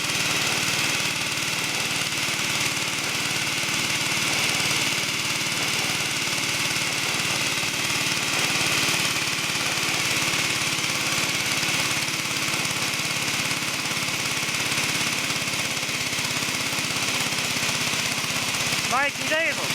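A diesel-driven compressor, connected with a Ford Falcon, runs hard just after a cold start, giving a loud, steady, droning engine roar with a rough knocking texture that continues unbroken throughout.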